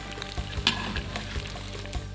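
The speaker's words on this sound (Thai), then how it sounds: "จึงทอดมันสาคูทอดไปให้รัดตัวเต่งตึง" Sago root frying in hot oil in a wok, a steady close sizzle with occasional sharp pops and stirring clatter.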